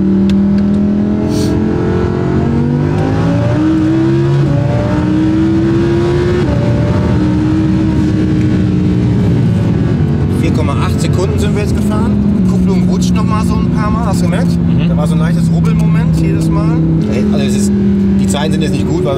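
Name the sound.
sports car accelerating on highway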